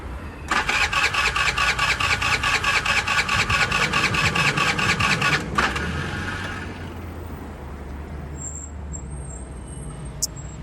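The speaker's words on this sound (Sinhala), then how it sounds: "මේ බයික් එක ස්ටාර්ට් වෙන්නේ නැහැ" A motorbike starter cranks in a fast, rapid rhythm for about five seconds, loud and close, then cuts off without the engine catching, leaving a quiet low background hum.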